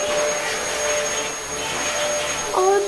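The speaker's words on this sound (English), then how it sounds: "Oh no, it's a hoover." A household hoover runs with a steady whine and drone throughout, with a brief higher squeal near the end, close by and fairly loud.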